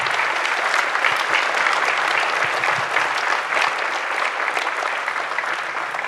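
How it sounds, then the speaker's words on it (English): Steady, full audience applause fills the room at a National Honor Society induction ceremony, a dense continuous round of clapping with no talk over it. "Can we give them one more great round of applause?"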